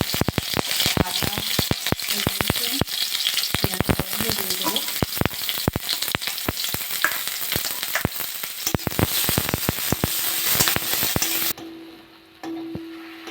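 Onion and green chili fry in hot white oil in a wok, making a loud, dense crackling sizzle full of sharp pops and spatters that cuts abruptly to a quieter, steadier hiss near the end.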